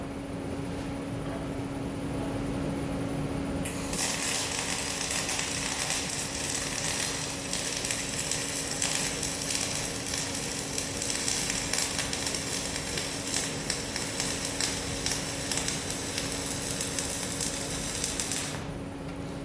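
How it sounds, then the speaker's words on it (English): Steady, crackling arc welding on steel, laying a staggered intermittent bead, runs continuously for about fifteen seconds with a dense, close hiss and spatter before cutting off abruptly. "I'm going to weld from here to the end, again, using the same basic technique"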